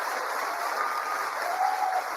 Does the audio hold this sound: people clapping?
yes